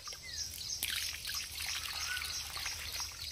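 Water is poured from a vessel onto newly planted flower plants in a village garden, a soft, quiet trickle and splash, with birds chirping faintly in the background.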